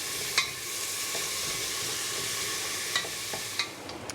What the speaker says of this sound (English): And the ginger garlic paste. I'm going to fry this up for about 2 minutes.